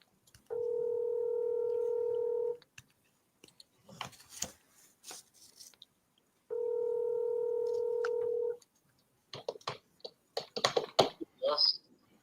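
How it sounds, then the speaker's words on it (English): An answering machine sounds two long steady beep tones, each lasting about two seconds, separated and followed by clicks and keyboard tapping on a phone line. "At the tone, please record your message."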